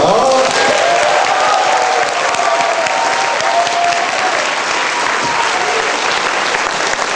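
Loud, dense applause from a church congregation at a laughter revival recreation event welcomes a guest speaker, sustained close clapping throughout with a faint murmur of the crowd.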